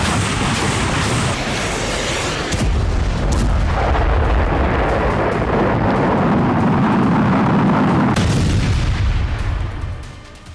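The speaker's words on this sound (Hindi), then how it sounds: "अचानक हुई इतनी विनाशक अस्त्र वर्षा से यूक्रेन का मिसाइल डिफेंस सिस्टम बेकार हो गया। धमाके पर धमाके होने लगे" Russian ballistic missile strikes in Ukraine, heard as heavy, continuous booming explosions and deep rumbling, loud and close, with a sharp blast midway and another near the end before fading.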